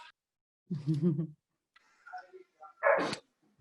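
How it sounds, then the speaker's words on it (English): A dog barks in a short burst of several quick barks, fairly close, followed by a few softer yelps and a brief human exclamation during an online group discussion. "My dog is barking."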